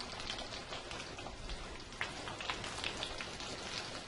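Scallops sizzle in a hot pan over high heat, a dense, steady crackling hiss with scattered pops, quiet and close, with no voices.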